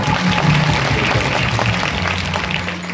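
A crowd at a devotional kirtan gathering claps for Dinesh, a dense, sustained patter of applause that fills the whole stretch without pause.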